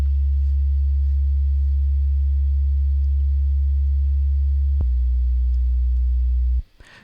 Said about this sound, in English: And it's just a simple sine wave.